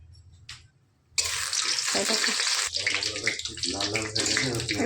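Bay leaves, garam masala and chili dropped into hot oil, bursting into a loud, steady sizzle after a brief quiet start, crackling close and continuous with faint background noise.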